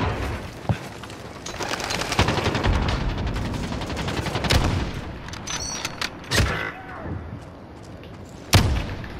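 A 725 shotgun fires in a video game amid a bomb-objective match: several loud, sharp blasts spaced irregularly over background gunfire and game noise, with players talking.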